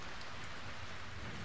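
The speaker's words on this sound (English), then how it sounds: "The rain fell. Hour after hour it rained. Day after day it rained." Steady rain falls as a sound effect in a spoken story, a constant dense hiss of drops with no break or change in level. It is fairly soft and plays alone without any voice.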